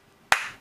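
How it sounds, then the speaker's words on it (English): A single sharp hand clap from one person, close and crisp, then a short decaying ring in an otherwise quiet room. "And they'll never know that was just me clapping."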